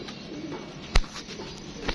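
A young female racing pigeon gives soft, faint cooing with one brief sharp flutter or knock, close by and otherwise quiet.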